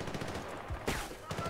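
Bursts of gunfire from the video game Bad Company 2, sharp repeated shots in quick clusters with a louder volley near the middle and more at the end, over a busy game soundscape.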